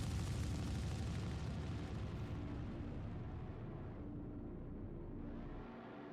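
Torpedoes exploding on a target in the Star Citizen video game, a dense sustained roaring blast that fills the scene and slowly tapers off, with no talking.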